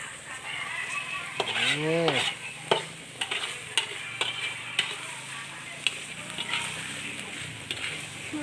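A chef stir-fries spicy field rat curry, a busy clatter of spatula strikes over a constant sizzle, with a brief rising and falling vocal-like tone early on.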